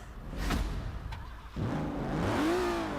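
An Aston Martin DB5 in Forza Horizon 4 turns over roughly, then its engine catches and revs up in a rising, close whir, heard alone.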